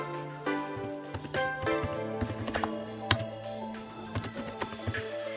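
Someone types on a computer keyboard while writing HTML, with irregular close key clicks and a few sharper taps over a faint steady hum.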